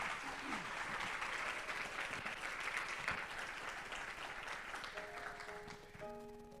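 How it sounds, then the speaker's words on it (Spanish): A congregation at a bilingual Spanish-English church service bursts into sustained, dense applause that slowly fades, ending with a few soft musical notes. "Denle un aplauso al Señor,"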